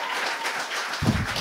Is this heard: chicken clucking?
no